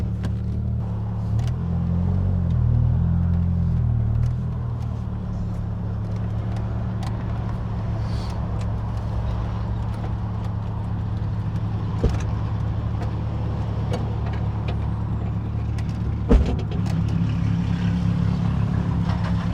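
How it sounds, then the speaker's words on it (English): A Chevy Cobalt misfiring on several cylinders rolls past in busy roadside traffic, a steady low uneven engine rumble with faint clatters and thumps on top. "That thing you just heard roll by was a Chevy Cobalt. It must be missing on more than one cylinder."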